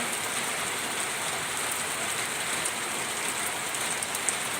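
Steady rain falling during the rainy season, a soft continuous hiss of drops on surfaces heard alone at a moderate distance with no pauses.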